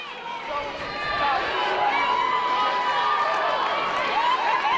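A roaring wrestling arena crowd swells and holds steady, dense cheering and shouting that builds over the first second and then stays loud and sustained.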